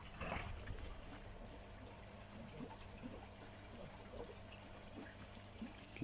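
Water trickling steadily from the Twisted Shower Tower filter on a koi pond, a faint, continuous splashing dribble with small irregular drips, heard close and quiet.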